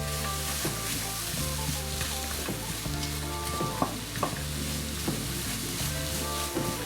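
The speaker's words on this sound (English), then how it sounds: "So my onions are beginning to soften, and I'm only on a low to medium heat." Onions soften with a steady sizzle in a pan over low-to-medium heat, a continuous close frying hiss running throughout alongside a rhythmic tonal background.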